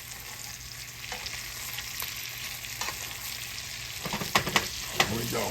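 Trout fillet sautéing in a pan for an old-school meunière, a steady close sizzle and fry with occasional sharper crackles and pops toward the end; a voice speaks briefly.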